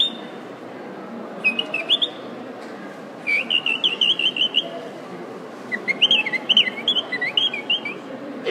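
A storyteller whistles in imitation of a bird, giving clusters of quick, bright chirps and trills in three separate bursts over a faint background hum of a crowd.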